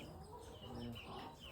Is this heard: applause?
no